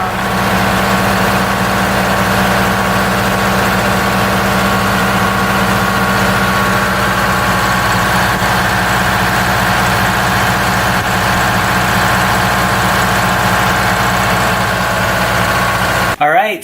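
A Detroit Diesel engine in a vintage bus idles at about 500 rpm, giving a steady, loud, even low rumble with constant vibration that holds unchanged for the whole stretch before cutting off abruptly at the end.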